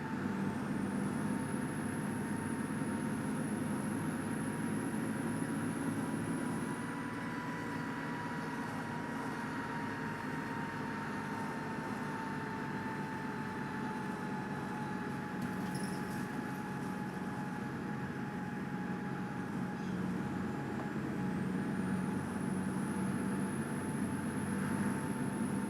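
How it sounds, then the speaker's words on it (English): A DAF DB250 Optare Spectra bus is driven flat out in the OMSI 2 simulator on a fast national speed limit road, its engine droning steadily with a high gear whine and slowly shifting pitch as it accelerates. "You know a bus is fast when you're catching up to cars on a national speed limit road."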